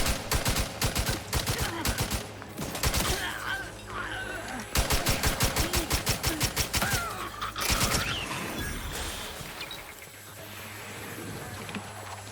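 Bursts of automatic gunfire from The Outer Worlds 2, loud rapid volleys in several clusters with brief pauses between, a game voice speaking over the shooting and softer ambience trailing at the end.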